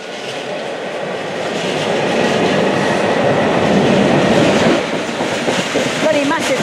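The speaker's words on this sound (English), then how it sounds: "Bloody massive train." A Class 66 diesel freight locomotive, number 66085, hauls a long train past the line at Water Orton. A loud, close, continuous rumble of wagons builds, peaks and holds, with faint rhythmic wheel clatter and a squeal near the end.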